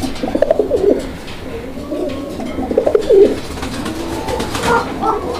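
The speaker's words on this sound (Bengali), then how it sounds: "আপনারা কবুতর দেখেন।" Raj-golla colouring pigeons coo in repeated soft, throaty bursts close by, with a low, steady background murmur between the calls.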